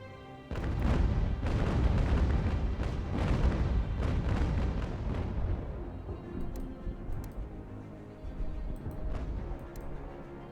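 Ship cannons fire in a naval battle in Ultimate General: American Revolution. A rapid broadside of deep, heavy booms overlaps into a rumbling barrage, then fades into scattered distant thumps and faint ticking.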